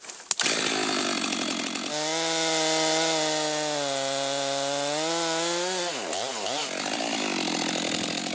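A chainsaw cuts a notch into the base of a large tree for felling. The engine roars at close range and holds a high, steady pitch, then dips and wavers as the chain bites into the wood.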